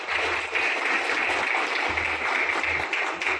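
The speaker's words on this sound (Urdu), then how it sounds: "ہماری میڈیا ٹیم کے لیے تھوڑی سی تالیاں" Steady applause from a crowd, a continuous wash of clapping that holds at an even level for several seconds with no talking over it.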